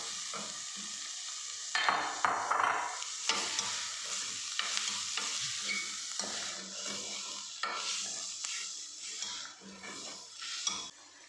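Grated chicken sizzles and fries in a pan while a utensil scrapes and stirs it in repeated bursts, with crackling oil close up and no talking.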